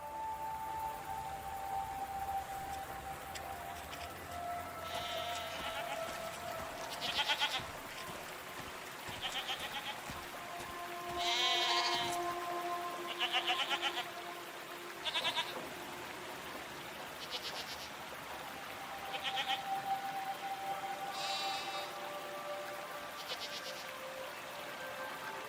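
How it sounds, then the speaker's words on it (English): Goat-like creatures in the video game SEASON: A Letter to the Future bleat repeatedly, several short nasal calls spread over an ambient outdoor bed with insect-like chirring and a soft tonal hum, no talking. "What are these strange goat-like creatures?"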